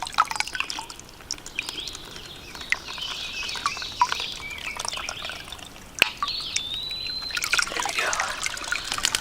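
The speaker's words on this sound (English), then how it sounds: "I'm gonna go ahead and fill up my water bottle. There's a spring down here." Water from a spring trickles and drips steadily close by as a water bottle is filled, with birds chirping faintly in the background and a brief sharp knock partway through.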